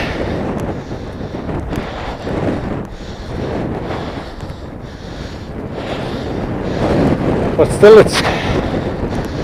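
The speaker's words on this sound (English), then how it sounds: "It's a little bit better to walk" Strong outdoor wind buffets and roars around a walking person along the Golden Circle on a cold day, a loud, constant gusty rush with someone talking briefly over it.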